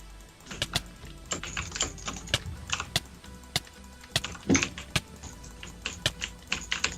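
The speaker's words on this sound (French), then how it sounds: "tu peux te mute parce qu'on entend tout ton clavier et tout." Rapid, irregular clicking of a computer keyboard being typed on during a Minecraft game, steady bursts of keystrokes throughout with faint background hum.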